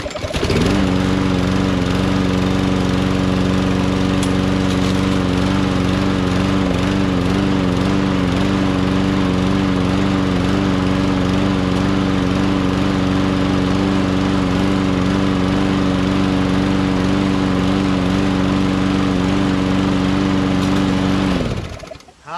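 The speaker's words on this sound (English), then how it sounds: "Found it on the street. Perfectly good Quantum engine." A Quantum engine on a Craftsman LT1000 lawn tractor runs steadily for about twenty seconds, a loud, close, even drone with a constant pulsing hum, alone with no talk, before cutting off at the end.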